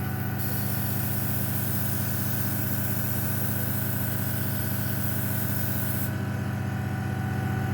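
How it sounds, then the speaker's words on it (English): Steady continuous hiss of a spray can or airbrush painting an Airfix 1/72 Short Tucano scale model, loud and unbroken throughout with no talk. "Sprays lovely, it does."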